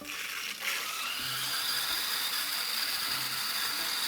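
Water hisses and rushes as the inlet valve of a water softener with a CSI Signature 3 control valve is slowly opened, a steady broadband flow noise with a few faint clicks beneath it.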